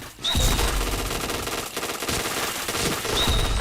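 Dense, sustained rapid gunfire from a shooter video game fills the whole stretch, with overlapping bursts and shots landing headshots, loud and continuous with no clear voices.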